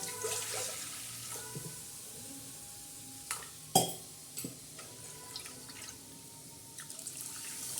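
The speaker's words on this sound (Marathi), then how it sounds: "तर लालसर तडका आपला झालेला आहे आता आपण मस्त डाळ टाकणार आहोत" Dal is poured into a sizzling garlic and curry-leaf tadka for moong and toor dal varan, a soft sizzle with drips and a sharp splash or clank midway, then quieter bubbling and stirring, no voices.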